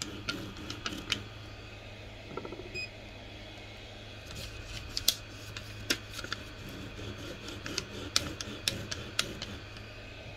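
Elegoo Neptune 3 3D printer running, steady mechanical hum with irregular ticking and clicking bursts from its moving parts, heard close and fairly quiet throughout.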